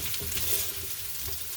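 Spam hash fries in a pan while a utensil stirs it, giving a steady close sizzle with light scraping and clinking through the short stretch and no talking.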